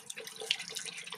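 Water trickles and splashes steadily out of the flush port of a hurricane-salvaged outboard motor hooked to a hose rig, a faint, continuous, uneven gurgle with no talking.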